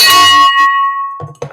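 A victory bell gives one loud, bright strike whose ringing tone sustains for about a second, then a clatter and a faint thump follow.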